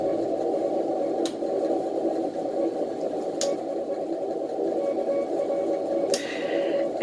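Steady hiss and buzzing radio receiver noise picked up through a Beverage receiving antenna, continuous and fairly loud, with a few brief clicks and crackles breaking through.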